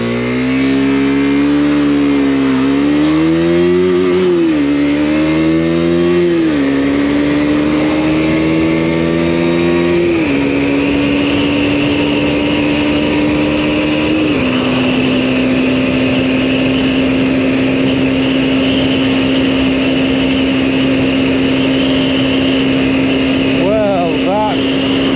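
A Husqvarna Svartpilen 125 motorcycle engine revs up through several gear changes, each rising whine dropping back before settling into a steady, loud high drone at sustained speed, with wind roar throughout.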